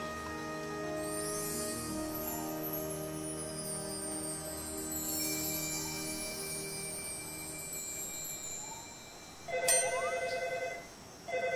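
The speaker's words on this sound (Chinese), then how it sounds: "怎么可能还有电话？" A telephone rings at a farmhouse on a reality show, a sustained electronic ringing tone that repeats steadily and grows louder near the end.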